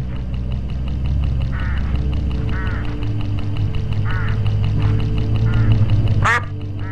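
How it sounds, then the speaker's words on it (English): Crows caw in short, repeated bursts over a steady low engine drone along a road in the game Hitchhiker, with one sharper call near the end. "Crows all along this road."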